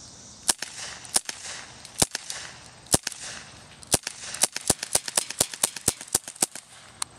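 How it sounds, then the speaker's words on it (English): A toy gun fires a whole clip of sharp snapping shots, sparse at first then quickening into a rapid string of cracks, moderately close with no talk. "give you guys a little video test, and just unload, like, the whole clip"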